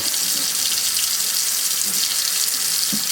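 Steady hiss of a Moen kitchen faucet running at full flow, continuous broadband water rush close by with no talk over it.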